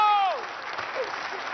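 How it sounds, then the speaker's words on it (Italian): Studio audience applause on an Italian television talk show rises after a brief tonal swoop and continues as an even wash of clapping. "Applauso!"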